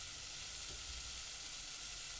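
Onions frying in a pan for onion soup give a steady, close, even sizzle with a soft hissing wash and no voices.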